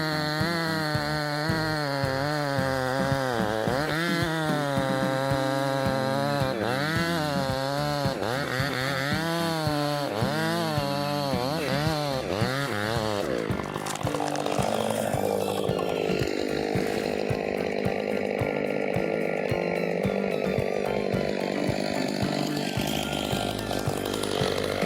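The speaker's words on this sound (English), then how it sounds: "workers with high-powered chainsaws confront the challenging task of clearing charred trees in the snowy forest" Chainsaws cutting through charred, fire-damaged trees in a snowy forest, engines whining loud and steady with rising and falling pitch as the blades bite into the wood, close by and continuous throughout.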